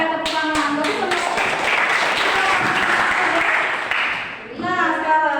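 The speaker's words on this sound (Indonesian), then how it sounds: "Oke, tepuk tangan." A class of students claps together during a school lesson, a burst of brisk applause that dips briefly near the end while a voice talks at the start and finish.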